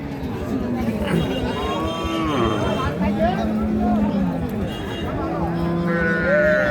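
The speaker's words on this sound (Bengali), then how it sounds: "এই পাশে একটা চমৎকার গাবি দেখতেছি সাইওয়ালের" Sahiwal cows and calves moo repeatedly at a busy cattle market, several long lowing calls rising and falling, up close, over crowd chatter and people talking.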